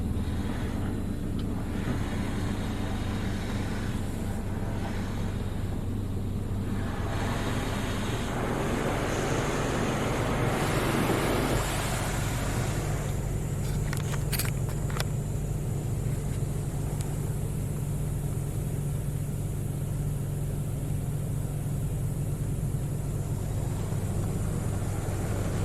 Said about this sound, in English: The pre-fill cleaning product is now being applied to your vehicle